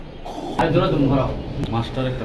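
Pigeons coo in low, rolling bursts close by among a seller's birds, including a silver pair, while people talk over them.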